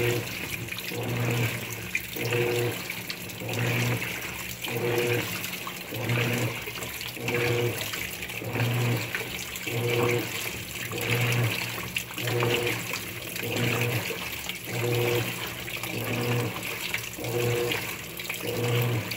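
A GE GTW680BSJWS top-load washing machine washes sheets, with water sloshing and churning in a loud, steady rhythm that swells and falls roughly every couple of seconds, heard up close.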